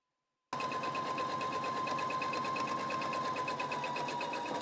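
A Viking Opal 670 sewing machine starts abruptly and stitches a jeans hem in a fast, steady, close whirr that runs unbroken to the end.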